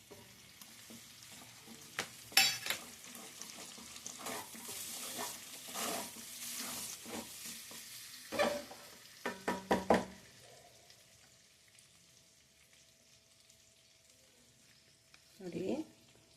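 Cooking oil warms and sizzles softly in a pan for dhaba-style palak paneer, with quiet frying hiss, occasional utensil knocks and stirring, fairly faint and close by.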